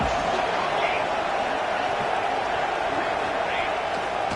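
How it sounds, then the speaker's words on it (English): Stadium crowd noise from the NCAA 26 college football game at the Fiesta Bowl, a steady roar of cheering that holds throughout, with a commentator talking over it. "3rd down, and the crowd really getting into it."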